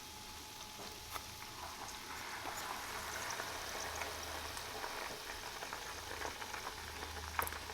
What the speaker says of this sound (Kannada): ಹಾಲನ್ನ ಹಾಕಿದ ತಕ್ಷಣ ಪಟಪಟ ಅಂತ ಸೌಂಡ್ ಬರುತ್ತೆ